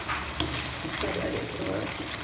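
Red Padang sambal being stirred in a pan, a dense, even sizzle with soft scraping, and a voice speaking faintly underneath.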